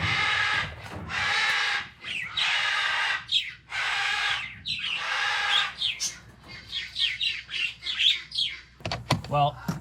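Parakeets chirp and squawk in a busy indoor aviary, a series of loud close bursts in uneven rhythm, followed by quicker, choppier calls toward the end.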